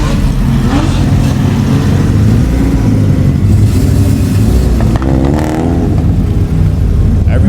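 A Honda CBR sport motorcycle engine revs and roars up close at a car meet, rising and falling in pitch, with voices and other traffic mixed in.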